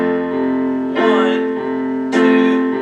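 Piano playing a single measure of a piece, sustained chords with two struck accents, fairly loud and close, with no talking over it.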